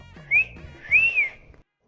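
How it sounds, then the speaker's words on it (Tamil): A person whistles two short rising-and-falling tones, the second longer and sliding, close and clear against a quiet background. "ஸோ தேங்க்கு வேறு என்ன பண்ணுறதுன்னு தெரியாமல் அவன் விசில் அடிக்கிறான்."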